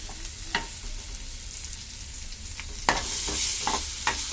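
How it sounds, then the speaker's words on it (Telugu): Chopped onions and green chillies fry with biryani spices in hot oil, a soft continuous sizzle under occasional sharp scrapes and clinks of a spatula stirring the pan, close and fairly quiet. "బిర్యానీ సామాన్లు వేసుకుని బాగా ఫ్రై చేసుకోవాలి."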